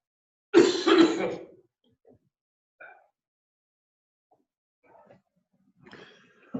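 A person gives one loud harsh cough close by, then a few faint throat-clearing sounds and small noises follow in near silence.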